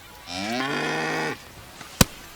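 A cow moos in an MLB The Show 25 baseball video game, one long loud low moo followed by a sharp click, alone with no talk.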